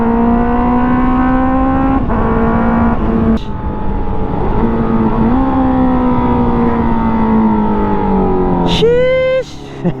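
Motorcycle engine recorded with an external mic on a GoPro Hero 12 motovlog setup, a steady loud droning hum with gentle pitch rises and dips as the rider cruises, plus wind rush and a brief higher whine near the end.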